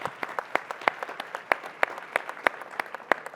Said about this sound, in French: une bonne main d'applaudissements pour nos panélistes de ce matin